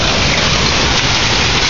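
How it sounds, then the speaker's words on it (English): Hail and rain pour down in a severe thunderstorm, a loud, dense, continuous hiss of pelting drops close by, steady throughout a brief moment. "Literally, it's just hail and mist."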